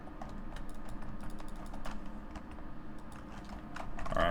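Steady typing on a computer keyboard, a rapid irregular patter of light key clicks at moderate distance, quiet and continuous throughout.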